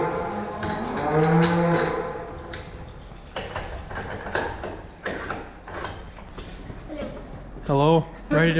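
Dairy cows moo in a tie-stall cow barn at milking time, several long, loud calls rising and falling close by, with barn clatter and people talking between the calls.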